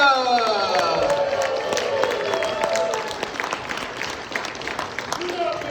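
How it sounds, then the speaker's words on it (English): A comedy club audience in Arcata, California claps and cheers, a dense, close burst of applause with raised voices and whoops mixed in, slowly thinning toward the end. "Guys, big round of applause, Arcata, California!"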